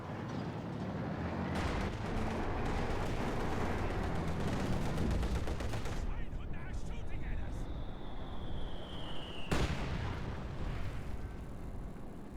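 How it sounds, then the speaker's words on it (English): Katyusha rockets fire during a Company of Heroes 2 match: a dense, roaring battle barrage with a long whooshing rocket streak and sharp blasts, under steady commentator talk. "One Katyusha rocket there."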